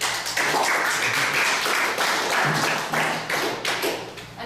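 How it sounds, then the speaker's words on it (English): Brief round of audience applause at a party nomination meeting, steady dense clapping from a modest indoor crowd for a few seconds, tapering off toward the end. "So everybody give a round of applause."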